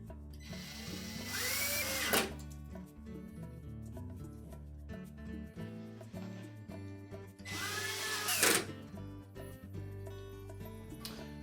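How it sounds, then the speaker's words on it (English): Retaining screws are driven back into a Whirlpool range with a power drill, in two separate whirring bursts of about a second each, several seconds apart, over a quiet background of faint tones. "And now we're ready to reattach the retaining screws."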